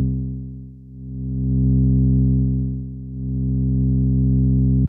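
A bass plug-in on its mellow character setting holds a deep, smooth sustained tone with gentle swells in volume, soft and rounded with little upper brightness, cut off abruptly at the end.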